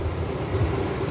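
Heavy rain pours steadily during a storm, heard from inside a stopped vehicle as a dense, continuous hiss with low rumble throughout.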